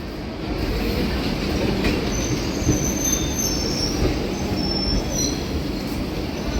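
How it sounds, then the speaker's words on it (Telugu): An LTT–Solapur–Anakapalli train with ICF coaches rolls past at a station, a loud, steady rumble of wheels on rails with thin, high wheel squeals drifting over it throughout. "ఇదిగోండి LTT Solapur Anakapalli ICF train ఇది"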